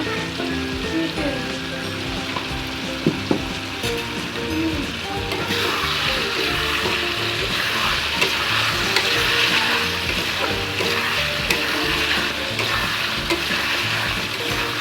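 Tomato and mango pickle sizzles steadily in a pan while being stirred, with a spoon scraping the bottom through the continuous frying hiss, close up.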